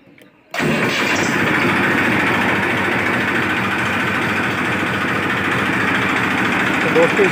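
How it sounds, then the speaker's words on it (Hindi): Massey Ferguson 241 DI tractor, a 2016 model in good condition, cranks and catches abruptly, then settles into a loud, steady diesel idle with an even rhythmic chug up close. "अभी स्टार्टिंग करवाते हैं ट्रैक्टर की।"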